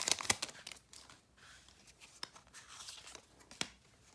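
Pokémon booster packs from Sword and Shield tripacks being torn open: quiet crinkling foil and sharp tearing snaps, close and intermittent, with soft rustling between bursts.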